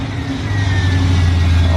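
A V8-swapped Porsche 944 Turbo idles with a steady, fairly loud low rumble that rises slightly after the opening moment, holding an even tone throughout.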